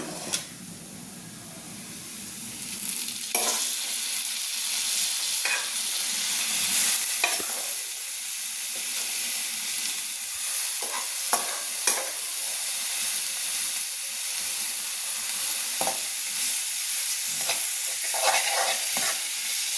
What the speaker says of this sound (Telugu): ఈ చిక్కుడుకాయలని అందులో యాడ్ చేస్తే మనకి మంచిగా చిక్కుడుకాయ ఫ్రై రెడీ అయిపోయినట్టే